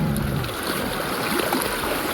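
Sea waves wash at a beach, a continuous close rushing of water with a low broadband roar and no clear break between surges.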